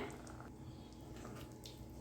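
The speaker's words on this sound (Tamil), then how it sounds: "இப்போ மிக்சி ஜாரில் கொஞ்சமாக தண்ணி விட்டு அதையும் சேர்த்துக்கிறேன்" Water trickles from a mixer jar into a pot of cowpea and drumstick kuzhambu, a faint, steady splashing pour lasting about two seconds without speech.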